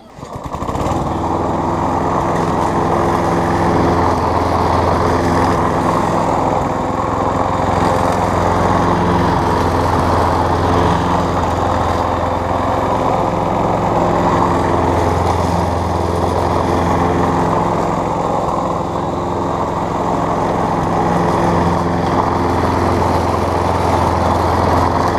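A Craftsman 6.5 horsepower push lawn mower engine runs steadily and loudly up close, a continuous droning rumble with no talking.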